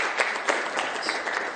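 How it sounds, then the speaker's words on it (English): An audience at a talk gives a short, moderate round of applause, a steady patter of clapping hands lasting only a moment. "Can we give Josh another round of applause"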